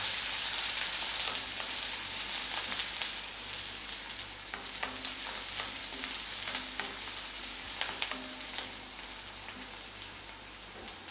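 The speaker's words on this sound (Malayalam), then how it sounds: "ഇനി അതിലേക്ക് നമുക്ക് ഈ സവാള ഇട്ട് കൊടുക്കാം. സവാള ഒന്ന് വഴന്ന് കിട്ടട്ടെ." Continuous crackling sizzle of onions sautéing in hot oil, with occasional scrapes and taps of a stirring spoon.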